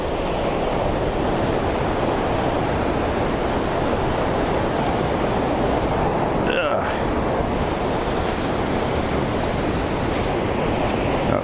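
Surf rolls steadily onto a long, nearly empty beach strewn with driftwood, a continuous loud wash of waves with wind buffeting the microphone.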